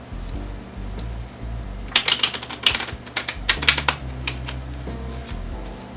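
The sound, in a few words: deck of playing cards being shuffled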